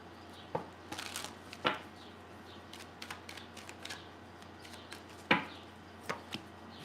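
Tarot cards being shuffled close by, giving soft riffling and rustling with a few sharper slaps and snaps scattered irregularly over a quiet background.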